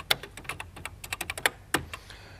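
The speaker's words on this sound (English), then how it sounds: "if I type in Space Shuttle." Quick, crisp keystrokes clatter on a computer keyboard in an irregular burst of about a dozen close taps, ending in a firmer final press, with no talking.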